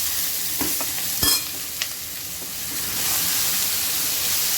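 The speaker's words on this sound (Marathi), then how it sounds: "चांगलं ढवळायचं कांदो पहिलं" Onions fry in hot oil with a loud, steady sizzle, broken by a few sharp scrapes and knocks as a spoon stirs them in the pan.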